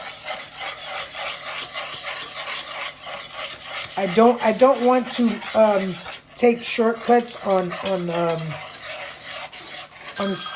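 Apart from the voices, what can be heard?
stirring Knox gelatin gummy mixture in a pan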